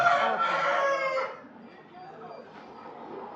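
A fighting rooster crows loudly and close, one long strained call that breaks off and trails into quieter background sound.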